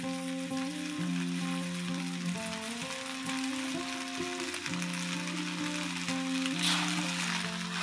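Squid fried rice made with instant fried-rice seasoning, stirred in a hot pan and sizzling steadily and loudly throughout, with the scrape of stirring and a constant low hum behind it.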